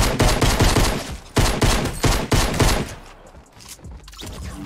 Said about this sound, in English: This guy's gonna double double burst me or headshot me.